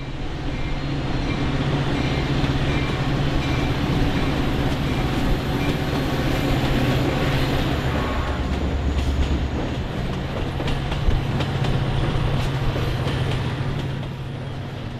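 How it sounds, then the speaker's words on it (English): BNSF line Metra commuter trains pull out of Roosevelt Road side by side, including express train 9515 to Downers Grove, a loud, continuous rumble of diesel engines and rolling cars with rhythmic rail clatter close by. "Racing out of the station thanks to identical departure times, train 9515 on track 1 is a BNSF line express to Downers Grove"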